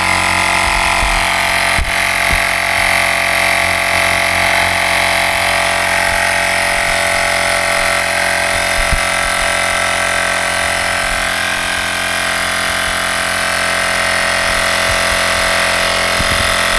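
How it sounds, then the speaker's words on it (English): A SyncWire portable air pump runs continuously while inflating a tire, giving a loud, steady buzzing whine with a constant motor drone close by, alone with no talking. "we're going to turn back on the pump"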